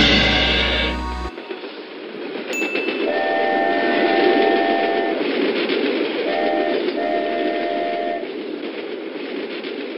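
A train rumbling closer with horn blasts, steady rolling rail noise building and holding, punctuated by several sustained horn tones, after a short burst of music at the start.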